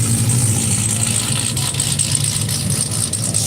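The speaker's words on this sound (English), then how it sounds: "There's a caddy. Listen to that." Cadillac engine idling at a nighttime rod run car show in Pigeon Forge, a steady low rumble with a loud continuous drone and outdoor crowd noise, no talk.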